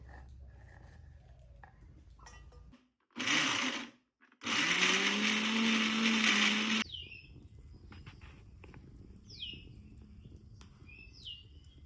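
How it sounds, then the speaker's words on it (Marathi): An electric mixer grinder whirs loudly in two short bursts, blending onion, coconut and garlic into a Konkani-style paste, with quiet outdoor birdsong chirping before and after. "कांदा खोबरं आणि लसूण असं सगळं आता एकत्र वाटून घेते"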